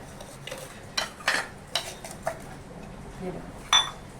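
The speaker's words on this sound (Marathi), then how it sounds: "हे वाटीचं जे बूड असतं यांनी चांगलं ठेचून घ्यायचा" Repeated hard knocks and clinks as the bottom of a bowl crushes garlic on a dish, about six irregular strikes, close up, with a faint voice in the background.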